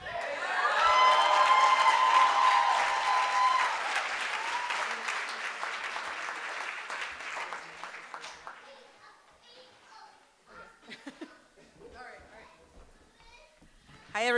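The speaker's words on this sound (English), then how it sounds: "Let's give another round of applause for Shakori." A fundraiser crowd claps loudly with whoops and cheers, then the applause thins and fades into scattered voices and chatter, a final clap burst near the end.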